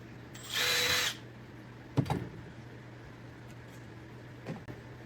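A power drill boring a starter hole in the center of a black plant basket, one short steady whine close by, followed by a couple of faint knocks and handling sounds.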